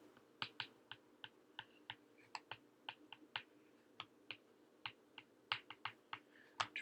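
Quiet, sharp taps of typing on a computer keyboard while notes are written down during a Modern Cube card game, irregular clicks arriving singly and in quick pairs, close and faint with no talking.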